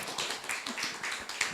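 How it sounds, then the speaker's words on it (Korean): Applause from a church congregation during a sermon, a steady patter of many hands clapping at a moderate level without speech. "박수 주세요."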